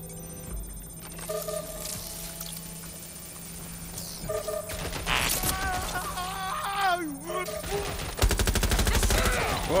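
Bursts of gunfire from the video game Watch Dogs: Legion crackle amid game sound effects and music, growing into dense rapid volleys near the end, with a voice heard at times.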